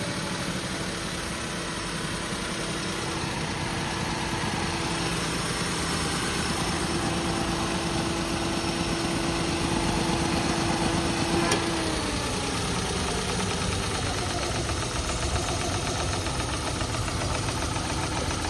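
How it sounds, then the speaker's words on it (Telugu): A 2013 Maruti Alto LXi petrol car engine idles steadily and close, a continuous low mechanical hum with faint knocking, with no talking over it. "ఫ్రెండ్స్. వెహికల్ ఇంజన్ అనేది కూడా ఆన్ చేసి చూపించడం జరిగింది."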